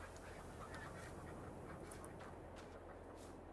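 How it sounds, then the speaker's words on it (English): Ducks quacking with chickens clucking on a Farming Simulator 22 farm, a steady low-level barnyard chatter of faint, overlapping calls under a constant background hum, no voices. "that's chickens and ducks going"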